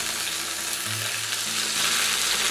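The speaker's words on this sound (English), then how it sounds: "Brown the pancake for 5 minutes. Flip it. Add 2 tablespoons of oil." A seafood pancake browns in oil in a frying pan, giving a steady, close sizzle and crackle that runs unbroken for the whole stretch, with no voices.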